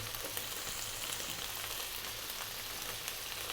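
Chicken pieces sizzle and fry in a pan for a halloumi salad, a steady, close crackling hiss with small pops, continuous and without speech.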